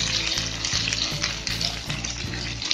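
Peas and green chili sizzle loudly in a pan of lightly browned onion while matar poha is being made, with a steady frying hiss broken by a few stirring scrapes and no talk.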